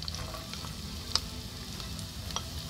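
Chopped onion sizzles softly in a pan for pizza sauce, a faint, steady frying hiss with a single sharp clink midway and a light scrape near the end, no voices.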